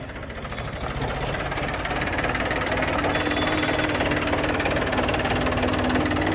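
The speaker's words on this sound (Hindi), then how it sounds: "आप ध्यान से सुनो, जो खनक इस ट्रैक्टर की आवाज़ में है ना" A loud, raw tractor engine running without a silencer throbs steadily close by with a rattling, knocking sound that holds constant throughout.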